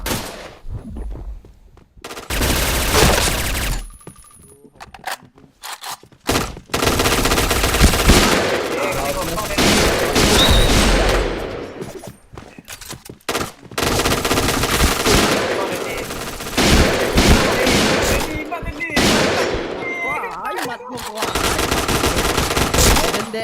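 Rapid automatic gunfire in a shooter video game, loud bursts separated by short gaps, with players talking over it.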